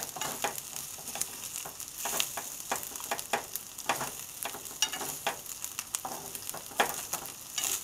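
Crab fried rice frying over high heat in a pan, a steady close sizzle broken by repeated bursts of stirring and scraping, with no talking.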